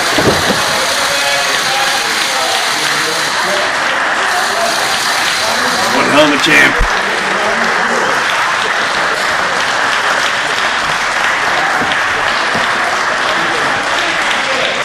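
A crowd applauds a retiring pro cyclist at a race, steady broadband clapping and cheering running throughout, with a commentator talking over it.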